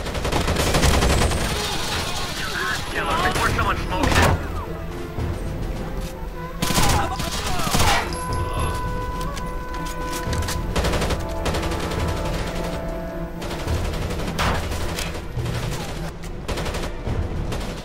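Rapid automatic gunfire and bursts in the video game Rainbow Six Vegas, loud and close, with repeated volleys and sharp shots over a game soundscape, and a player talking now and then.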